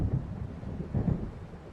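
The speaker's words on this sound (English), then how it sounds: "It seems there's a storm coming." Low thunder from an approaching storm rolls in a couple of muffled, distant swells over faint rain in the video game Alan Wake.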